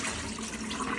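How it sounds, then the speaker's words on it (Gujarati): Rinse water poured off homemade butter churned from milk cream in a home kitchen, a short continuous splashing pour. "અને પાણી ઢોળી દેવાનું."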